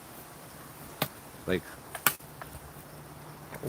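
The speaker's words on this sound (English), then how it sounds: "That was the sound of a stick hitting the road" A few sharp wooden taps of a stick on a road, spaced irregularly, fairly close, with a brief spoken word in between.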